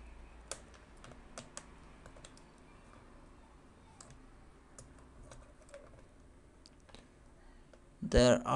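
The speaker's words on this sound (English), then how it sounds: "Take the keyboard out." Plastic clicks and light taps come from a keyboard being pried out of an Acer Aspire 7250G laptop during disassembly, scattered and fairly quiet, ending in a brief louder burst of handling noise.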